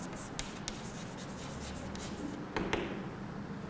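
Chalk or marker writing on a classroom board during a physics lesson, faint scratchy strokes with a few sharper taps and scrapes, steady and quiet throughout, with no talking.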